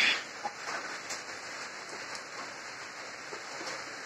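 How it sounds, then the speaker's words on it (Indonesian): Soft, steady rain hisses continuously outside a chicken coop, faint and even, with no voices. "Dan di luar lagi hujan."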